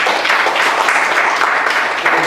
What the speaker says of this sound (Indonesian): Oke, tepuk tangan dulu buat semuanya.